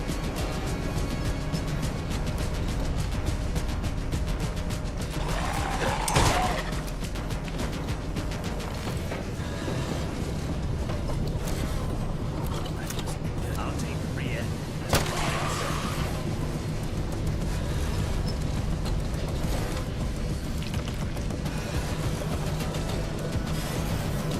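Continuous rapid gunfire from a weapon in Fallout London, held down to fire like a machine gun, a steady dense stream of shots with a couple of louder impacts standing out.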